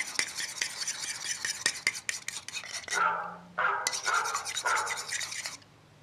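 A spoon stirs a homemade floating trout dough bait mixture, tinted blue, in a bowl, making close, repeated scraping and rubbing strokes with short pauses between bursts.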